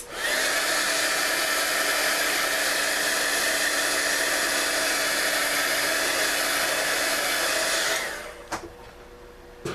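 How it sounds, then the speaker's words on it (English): Embossing heat gun blowing hot air over a handmade card, a loud, steady whooshing hum held for about eight seconds before it switches off, followed by a few faint handling clicks. "I'm going to heat it again with the heat tool to make sure it's really good and dry"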